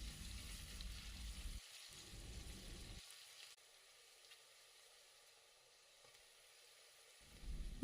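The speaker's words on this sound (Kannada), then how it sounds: "ಇದನ್ನು 3 ನಿಮಿಷದಿಂದ 4 ನಿಮಿಷದವರೆಗೂ ಚೆನ್ನಾಗಿ ಹುರ್ಕೋಬೇಕು." Soaked double beans fry in a pan with a soft, continuous sizzle that drops out into near silence partway through before picking up again at the end, faint and close with no voices.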